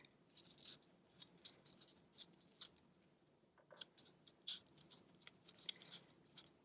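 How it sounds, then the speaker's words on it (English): Scissors snip very tiny cuts into folded paper, a quiet stream of short crisp clicks and snips, uneven in rhythm, close up with no talk. "I'm turning my papers and I'm doing very tiny cuts."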